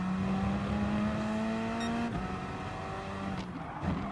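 A Gr.4 Alfa race car at Brands Hatch in Gran Turismo Sport holds a steady high engine whine that dips with a gear shift midway, then drones on, loud and close.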